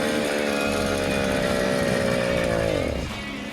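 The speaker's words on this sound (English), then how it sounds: "Ah, it's surging again." A small motorized bicycle engine running low on gas drones loudly at close range, holding a steady buzzing pitch before its revs sag and drop near the end as it surges, with no voices.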